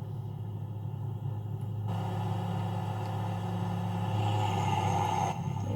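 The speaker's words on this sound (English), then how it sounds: "I'm gonna downshift a ton of gears." A farm vehicle engine on a Michigan family farm rumbles steadily while downshifting, its tone changing as gears drop partway through, a constant low drone with no talking.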